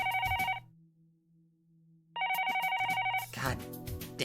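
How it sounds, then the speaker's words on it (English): Telephone in the Higurashi video game rings in two loud electronic bursts separated by a pause, then speech and music overlap as the ringing continues near the end. "Right then, the phone rings."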